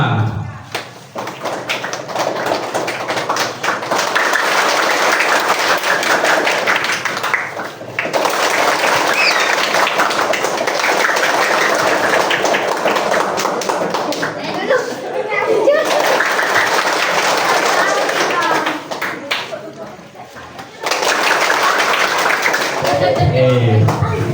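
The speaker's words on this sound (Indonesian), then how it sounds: "Tepuk burung dara." Children at a scout lesson clap through the 'tepuk burung dara' routine in rhythmic bursts separated by short pauses, with children's voices and chanting mixed among the claps.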